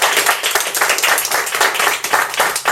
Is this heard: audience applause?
yes